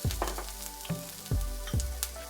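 Shallots sizzle in a hot pan for a mushroom stroganoff, with a steady frying hiss broken by three or four close scraping stirs of a utensil.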